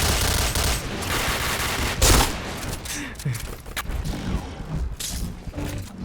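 Rapid, dense gunfire from the online shooter Point Blank, with bursts and single shots overlapping continuously for several seconds at close range, loud throughout with a heavier thump near two seconds.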